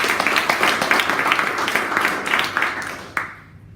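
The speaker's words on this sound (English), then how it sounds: "I think that deserves a round of applause" An audience applauds during an interview event, a moderate patter of clapping that thins out near the end, ending with a final sharp clap before fading.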